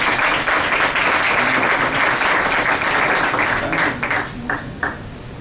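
An audience at a human rights and health conference applauds to welcome a speaker, with dense, sustained clapping that thins and fades toward the end.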